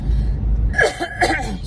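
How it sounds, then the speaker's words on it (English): A few rough coughs or throat-clearing bursts come close to the microphone after a moment of low rumbling background noise. "Excuse my coughing"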